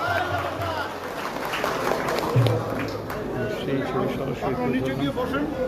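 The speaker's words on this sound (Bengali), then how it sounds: "সবাই একটা জোরে হাততালি" Clapping from a crowd at a kirtan ceremony where a minister hands over khol drums, kartal cymbals and harmoniums, a dense steady patter mixed with crowd chatter and voices for the whole stretch.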